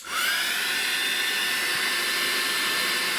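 A hair dryer blows on wet paint in a sketchbook, starting up and then holding a loud, steady, close whooshing whine with a faint tonal hum and no speech.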